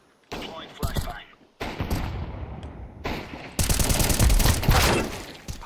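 Rapid gunfire in the video game Counter-Strike, in three loud bursts of automatic shots with brief gaps between them, each burst louder and denser than the one before.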